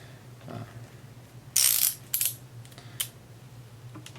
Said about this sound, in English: We'll slide it over the gas plug and just torque it.